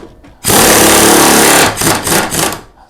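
An electric impact wrench works on a Vespa GTS 300 hpe shock absorber, a loud close burst of buzzing hammering that runs for about a second, then pulses a few times before stopping.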